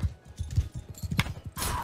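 Horse hooves in the Bannerlord video game: a quick, steady clip-clop of a galloping horse, moderately near and fairly quiet, followed by a brief hissing rush at the end.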